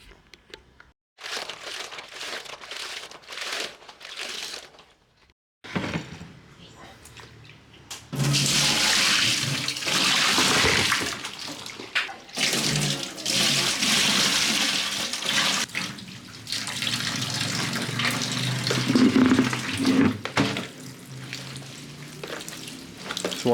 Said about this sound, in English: So once you rinse it